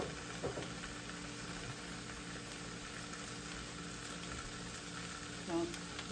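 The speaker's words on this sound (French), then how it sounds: "Mon poisson salé est en train d'être sauté." Salted fish and okra sautéing in a pan give a steady, close, continuous sizzle throughout, with a faint tonal hum and occasional small pops.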